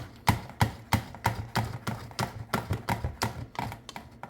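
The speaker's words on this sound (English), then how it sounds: "I'm going to grate up my butter" Frozen butter is grated by hand in quick, evenly spaced scraping strokes, about a dozen crisp rasps in a steady rhythm, close and clear with no talking.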